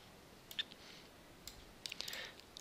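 A computer mouse clicks faintly a few times while working in ArtCAM software, a couple of isolated taps followed by a quick cluster of light clicks near the end.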